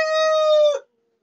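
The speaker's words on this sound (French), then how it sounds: "Désolé pour le bruit, c'est des coqs Orpington." An Orpington rooster crows once, loud and close, a single sustained call that breaks off abruptly after about a second.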